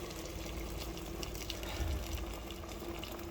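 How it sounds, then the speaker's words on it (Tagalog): Water poured into a cooking pot for chicken sinigang, a steady low splashing and gurgling flow at moderate level without speech. "Maglagay na po tayo ng tubig."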